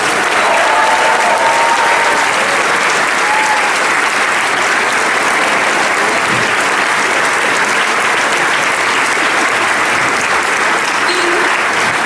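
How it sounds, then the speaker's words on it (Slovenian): Loud, continuous applause from a theatre audience at the close of a premiere performance, thick and even throughout, with faint crowd murmur underneath. "Zdaj pa en velik aplavz za našo najmlajšo, najbolj pogumno, to je Polona Ložar."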